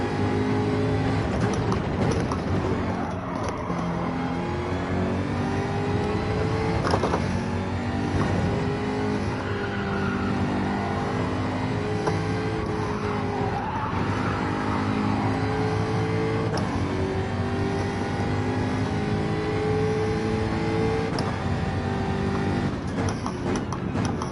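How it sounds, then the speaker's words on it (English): A Hyundai car in a racing video game accelerates, engine droning and shifting pitch up through the gears, steady and close for the whole stretch with no talk over it. "Look at that Hyundai accelerate."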